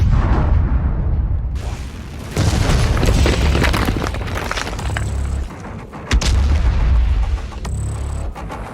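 A heavy cannon fires in a Doom Eternal cutscene, with deep booming blasts, rumbling low-end roar and sharp cracks that recur over several seconds, loud and close.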